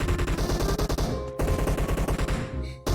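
Automatic gunfire rattles loudly in a video game, with long rapid bursts of close shots broken by one short pause and a brief gap near the end, and no talk.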